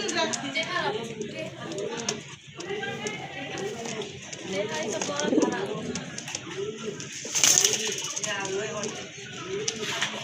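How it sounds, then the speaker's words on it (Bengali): A pair of red-geared pigeons cooing in repeated soft rhythmic bursts throughout, with a voice speaking over them. "খুবই সুন্দর মার্কিং সম্পন্ন এক জোড়া কবুতর, লাল গিয়ারের কবুতর"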